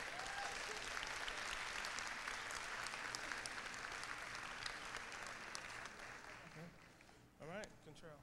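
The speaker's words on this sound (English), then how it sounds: "I would like to have another round of applause" A crowd at a live stream event gives sustained applause, a steady wash of many hands clapping that thins toward the end, where a voice begins to speak.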